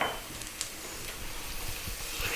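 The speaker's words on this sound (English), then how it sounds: "We're now going to drop in that garlic ginger paste." Garlic ginger paste sizzles in a hot pan with onions, a steady close frying hiss with a few soft stirring clicks throughout.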